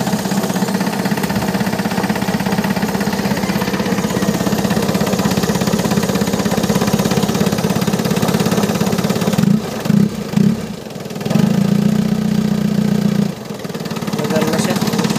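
An Isuzu Crosswind that had sat unused for years runs just after being started. A loud, steady low engine drone continues with a few brief dips and stutters.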